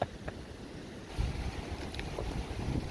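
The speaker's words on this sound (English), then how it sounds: "It's been a very windy day." Steady wind buffets and rumbles across the microphone at a beach house construction site in the Philippines, a constant low roar with gusts that swell slightly, no voices.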